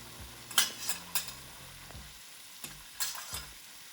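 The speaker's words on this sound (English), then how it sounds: "a teaspoon of turmeric powder, a teaspoon of garam masala, and then just give it a good mix." Spoon stirring spices into a simmering bean and chickpea stew curry, with soft scraping strokes and gentle sizzling in a pot, close up and without talk.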